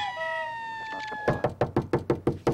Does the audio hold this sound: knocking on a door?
yes